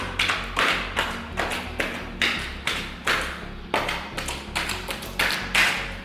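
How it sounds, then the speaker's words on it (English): A skip trowel loaded with drywall mud is tapped against a wall in a steady series of about a dozen close, soft slapping taps, heard alone. "once I add it to the trowel, I just tap it on the wall like this"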